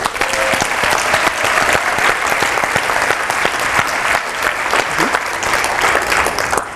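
Audience applause at a conference, thanking the sponsors: sustained, dense clapping from a large crowd, steady and loud for the whole stretch with no speech over it.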